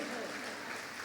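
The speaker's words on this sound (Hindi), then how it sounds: "ताली बजा दीजिए फिर।" A church congregation at a family prayer service breaks into brief, dense applause, steady and close throughout the short moment.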